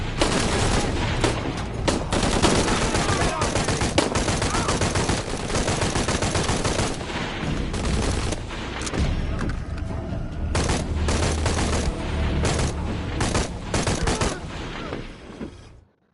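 Gunfire in Shadow of the Tomb Raider, sustained loud bursts of automatic weapons and rapid shots in a dense firefight, with in-game voices shouting under the shooting.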